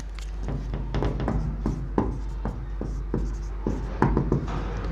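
Quick scratchy pen or chalk strokes writing out a maths solution, a dense run of sharp taps and scrapes close up, steady over a low mains hum, with no talking.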